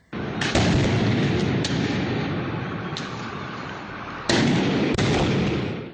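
Several sharp gunshot bangs ring out over a dense, noisy background during a street protest, a few spaced seconds apart and echoing outdoors.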